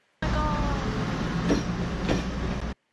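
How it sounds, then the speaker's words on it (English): A train passes close by with a steady, loud broadband rumble and rattle throughout, swelling slightly at the peak of its pass, with no one speaking over it. "This is the peak where the train passes by me."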